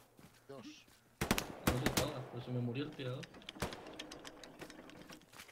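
Bursts of rapid automatic gunfire and sharp single shots in the World War II shooter game Hell Let Loose, loud and close, mixed with someone talking over radio-style chatter.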